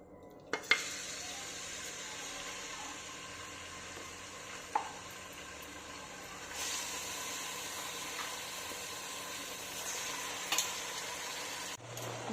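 Mutton pieces fry in hot oil in a pan, giving a steady, moderately quiet sizzle throughout with a few sharp utensil clinks, no talking.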